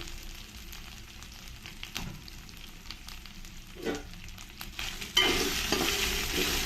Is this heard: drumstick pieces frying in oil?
yes